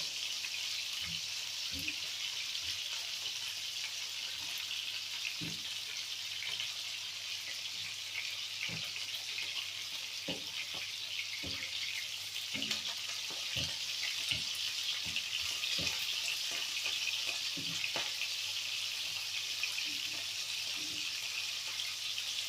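Meatballs fry in a pan with a steady, close sizzle, and soft clicks and taps come at intervals as they are turned to brown on all sides.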